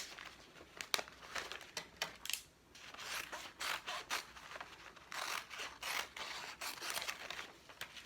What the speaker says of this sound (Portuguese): cortar o nosso molde. Corta com calma, com a mão firme